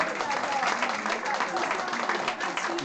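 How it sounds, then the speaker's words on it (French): Dense, sustained applause from an audience at a French cultural association event, a steady wash of many hands clapping at even loudness throughout with no break. "On va l'applaudir."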